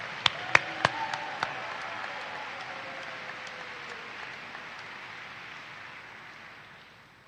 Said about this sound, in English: let's give him another round of applause for his great work representing you all